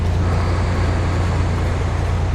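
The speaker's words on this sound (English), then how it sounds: "Very loud when I accelerate because this engine's a bit out of balance" Narrowboat engine with a worn mount, shaking and out of balance, droning loudly and close under acceleration as a steady low rumble with no voices.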